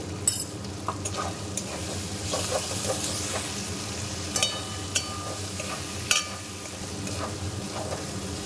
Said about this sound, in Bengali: এইবার আমি এতে কাজু আর পোস্ত বেটে রেখেছিলাম সেটা পুরোটা দিয়ে দেবো। দিয়ে ভালো করে একটু নাড়িয়ে দেব।